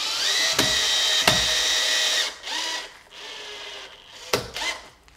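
Screw being driven with a power screwdriver into a Fischer anchor in a solid concrete block, with short whirring bursts separated by clicks and pauses, close and moderately loud.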